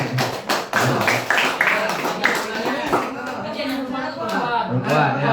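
Clapping from a talk-show audience at a Ramadan gathering with orphans, a dense patter of hand claps with a voice talking over it throughout.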